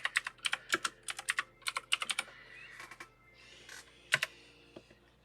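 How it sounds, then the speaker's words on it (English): Rapid typing on a computer keyboard while building a house in a game: bursts of crisp, close key clicks in quick runs, pausing briefly, then a few louder isolated keystrokes. "Yep, I'm typing it in again."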